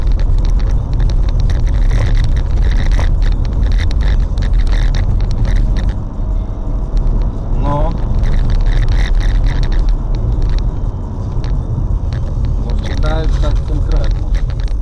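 A car driving through city streets during a pursuit toward the vehicle registration office, its engine and road noise loud and continuous throughout, with occasional brief clicks and rattles inside the cabin.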